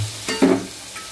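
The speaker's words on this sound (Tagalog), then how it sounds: "Ginigisa lang natin guys" Mussels sautéing in a pan for soup: a short close burst of sizzle and stirring, one brief scrape standing out, no talk.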